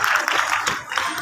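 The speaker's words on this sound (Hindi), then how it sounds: "आगे एक बार जोरदार ताली चाहूंगा इसके लिए" A live event audience bursts into brief applause, a steady wash of many hands clapping at close range.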